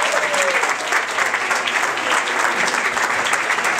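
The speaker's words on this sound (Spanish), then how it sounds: "demos un fuerte aplauso a nuestros hermanos argentinos aquí presentes" A crowded event hall breaks into strong, sustained applause welcoming Argentine guests, many hands clapping loudly and evenly throughout, with no speech over it.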